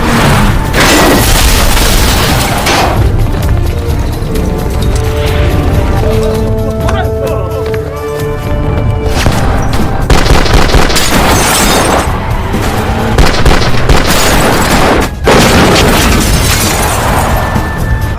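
Gunfire and explosive booms fill a loud police shootout scene in a Triad crime film. Heavy blasts and bursts of shots crash repeatedly throughout, mixed with dramatic music, and a voice talks over the action.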